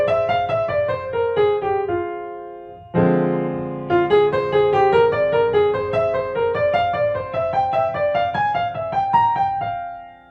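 Melodic instrument playing an F melodic minor scale, then each diatonic chord arpeggiated note by note in a steady ascending-descending run, clear and solo with no talking.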